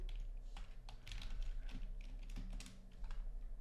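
Fingers type quickly on a computer keyboard up close, a dense run of soft, uneven key clicks over a steady low hum, with no talking.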